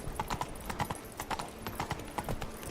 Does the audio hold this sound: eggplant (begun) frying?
no